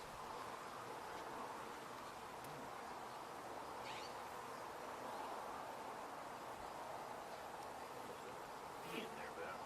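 Bees drone in a steady, dense buzz around an open hive during installation, a constant near hum that never lets up, with a few brief sharper sounds on top.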